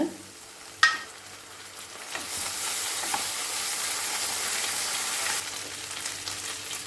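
Whole spices and onion fry in oil for an egg kulambu, a brief clink near the start giving way to a loud, steady sizzle that swells in the middle and eases off toward the end.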